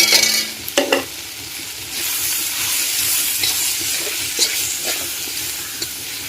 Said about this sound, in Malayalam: ഇത് ഇത്രയും ഇതിനകത്തിലോട്ടിട്ട് നന്നായിട്ട് മൂപ്പിച്ചെടുക്കണം